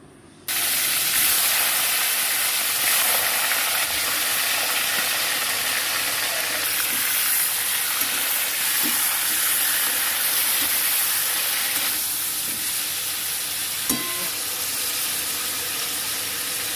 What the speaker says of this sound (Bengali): আমি সেই তেলে কিন্তু মাংসর পিসগুলো আলাদা করে আমি একটু ভেজে নেব